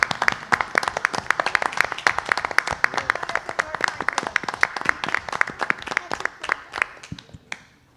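An audience at a school board of trustees meeting claps steadily and fairly loudly for several seconds, the applause thinning and fading out at the end.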